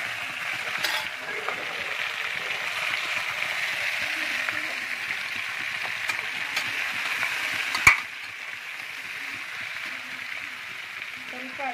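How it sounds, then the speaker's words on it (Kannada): About a kilo of country chicken with fried onion and a little salt sizzles steadily in a cooker, a constant close frying hiss with a sharp clatter partway through, while a voice talks over it. "ಸ್ವಲ್ಪ ಉಪ್ಪು ಹಾಕಿ ಫ್ರೈ ಮಾಡ್ತಾ ಇದ್ದೀನಿ"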